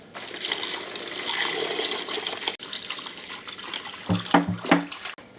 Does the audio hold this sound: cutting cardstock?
no